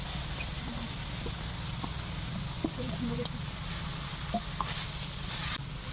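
Shredded cabbage and carrot sizzle softly in a pan, a faint steady frying hiss with occasional light stirring clicks, under a quiet background.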